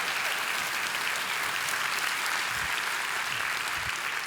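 Sustained audience applause at an anniversary luncheon marking twenty years of a church-based organization, a dense, steady wash of many hands clapping throughout.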